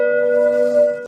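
A single chime-like bell sound effect rings out clear and sustained for about a second and then stops abruptly, with no voices.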